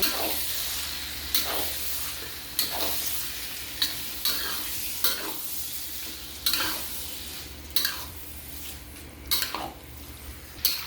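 Onion, garlic and meat sauté in a pan for Ilocano igado, giving a quiet continuous sizzle broken by regular scraping stir strokes about once a second, with no voices.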